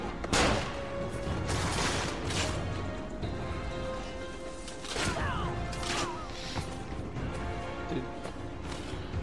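Rifle gunfire crackles through a Den defense battle in Assassin's Creed Revelations, with repeated sharp shots and crashes over a steady bed of game noise and background music.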